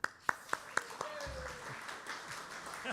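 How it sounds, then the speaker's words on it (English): Brief applause from a luncheon audience greeting Karen, starting with a few sharp, separate claps close by and then thinning into a soft, scattered patter under low room murmur. "Round of applause for Karen."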